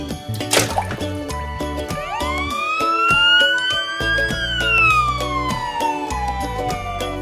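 Toy red ambulance with a siren: loud electronic wailing tones that sweep up and down over repeated beeping pulses and a splashy start, continuous and close, with no speech.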